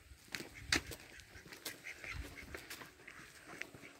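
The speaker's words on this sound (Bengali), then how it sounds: "হাঁসগুলো দেখো" Ducks at a countryside eco resort quack and honk in short, irregular calls at moderate distance, over faint outdoor background noise with no talking.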